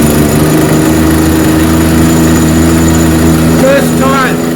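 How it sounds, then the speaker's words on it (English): Husqvarna 129L string trimmer engine running, a loud steady idling drone throughout, then briefly revving with a rising whine near the end. "you can hit the handle to make sure that the trimmer actually starts up"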